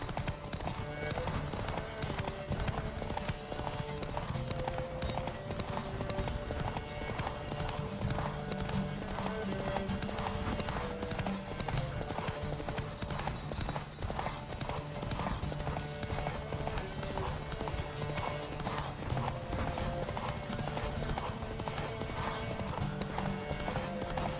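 Rapid, continuous hoofbeats of a galloping horse pound throughout, loud and steady over a dense backdrop of music and game ambience in The Witcher 3: Wild Hunt.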